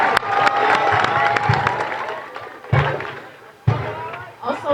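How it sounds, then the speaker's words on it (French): Audience applause at a lycée excellence day ceremony in Thienaba, a crowd clapping for the master of ceremonies with loud thumps and bursts mixed in and voices talking over the noise. "Est-ce qu'on peut applaudir notre brillant maître de cérémonie,"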